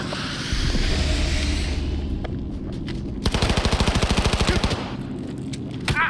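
Rapid automatic gunfire in the video game Cyberpunk 2077 rattles out as a dense burst of evenly spaced shots over a constant loud background of game ambience, with no speech.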